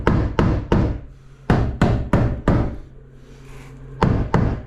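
A tiler taps tiles into place by hand, producing sharp, close knocks in uneven bursts of three and four, with short pauses between and a quiet hum beneath.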